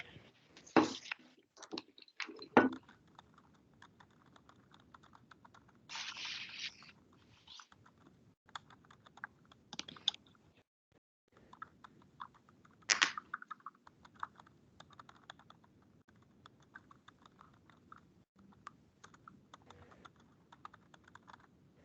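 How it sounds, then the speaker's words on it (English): Typing on a computer keyboard during an advisory committee meeting, with irregular bursts of clicking keystrokes and a few louder clacks, fairly close, continuing with short pauses and no talk. "Sorry, I'm typing"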